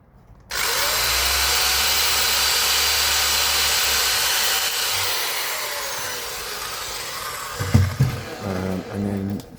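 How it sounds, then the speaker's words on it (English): A power drill bores into a model railway baseboard in one continuous close, loud whine lasting several seconds, then winds down and stops, followed by a few light handling knocks. "I'll make a very annoying drilling noise in a minute"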